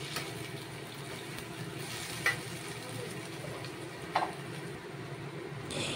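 Taro stolons (kochur loti) frying with spices in a pan, a soft steady sizzle with two sharp scrapes of stirring, fairly quiet and without talk.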